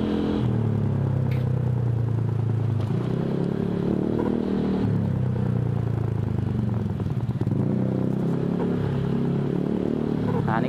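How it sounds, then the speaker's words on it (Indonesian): A Honda Vario 150 scooter fitted with an F2Racing CL Long exhaust rumbles steadily while riding past a housing complex, its engine drone continuous and close with some clatter, and faint speech underneath. "Jadi hanya suara knalpot gue sendiri nih."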